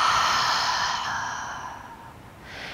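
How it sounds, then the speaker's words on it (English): A big, forceful exhale pushing all the air out during a morning yoga flow: a close, airy rush that slowly tapers off over a couple of seconds, with a faint new breath beginning at the end. No one talks. "Exhale all the air out."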